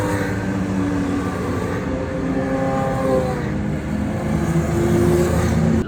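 Several Porsche cars roll past on a parade lap at the Rennsport Reunion 7 track event, a loud, steady wash of engine noise with harmonic tones rising and falling as the cars go by, no talking.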